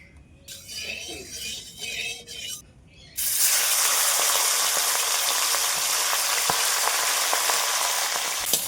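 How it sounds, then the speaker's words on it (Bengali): A fish head drops into hot oil in a wok and fries with a loud, steady broadband sizzle. Softer speech-like clatter comes before it starts, and the sizzle continues unbroken with faint pops. "এবারে কড়াইতে তেল দিয়ে আমি মাছের মাথাটা ভেজে নেব"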